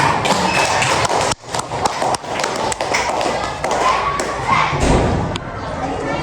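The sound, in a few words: classroom applause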